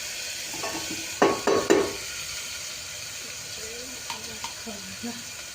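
Onion and garlic fry in a pan with cumin and fenugreek, a faint steady sizzle broken by a few louder stirring scrapes and clatters.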